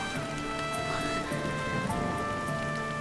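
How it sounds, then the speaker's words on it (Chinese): Steady rain falls outside a traditional tiled-roof building, a continuous soft hiss of drops under sustained musical tones. "下雨声啊。"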